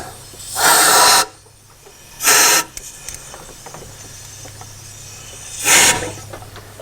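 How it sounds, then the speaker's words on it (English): Compressed air hisses in three loud close bursts, the first two longer and the last short, blowing debris out of injector cups on a 7.3 Powerstroke diesel, with quiet pauses between blasts. "Give it a little squirt of air, just kind of blow any debris out."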